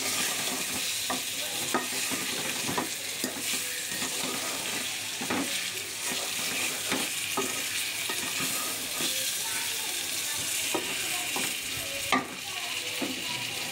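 Olives for pickle frying in a pan, a steady hiss of sizzling oil with repeated scraping clicks of a spoon stirring, close and continuous.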